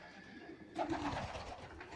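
Pigeons coo in a breeding loft, a soft low cooing that starts partway through and carries on over faint background hum, fairly close and not loud.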